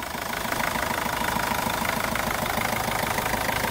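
A Toyota Corolla 1.4 D4D diesel engine idling, a steady, even ticking clatter close by, continuous with no talk.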